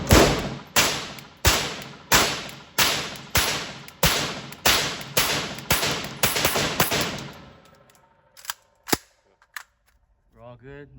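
A rifle loaded with Tula ammunition fires about a dozen loud, evenly spaced shots in quick succession, each with a short echoing tail, followed by a couple of scattered clicks and a brief voice at the end.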